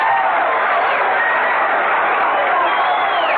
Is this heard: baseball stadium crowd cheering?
yes